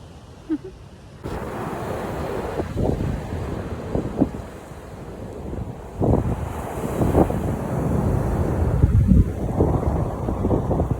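Strong wind buffets the microphone while waves crash and surge by the sea, a rough, continuous stormy roar with bursts of louder gusts.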